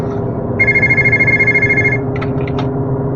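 An old telephone rings once in a sustained electronic trill, then a few short chirps follow, all over a steady background hum.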